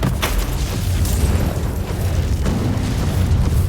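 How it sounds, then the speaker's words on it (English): A fire attack in a Warhammer video game erupts into a loud, sustained roaring whoosh, with booming bursts at the start and again mid-way as enemies ignite. "I'll just light them all on fire"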